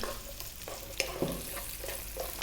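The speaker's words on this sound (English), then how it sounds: "simply we're going to drop in that 1 cup of onion" A cup of chopped onion sizzling in hot oil for a green bean curry, a soft, steady frying hiss with a few faint pops and spatula scrapes, quiet and close.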